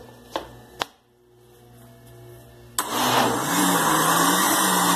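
Two sharp clicks and a short pause, then a kitchen blender roars to life and runs loudly and steadily, whirring through a chicken pie batter thickened with flour and starch.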